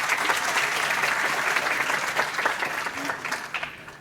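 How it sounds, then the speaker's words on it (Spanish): An audience at a psychology and sexual diversity event applauds a speaker, producing continuous, lively clapping with a few sharper claps standing out as it gradually tapers. "le damos un aplauso"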